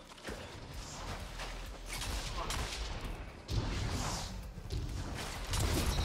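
Rapid gunfire in Destiny 2 rattles in repeated bursts amid explosions and clatter, a dense, continuous battle din at moderate volume.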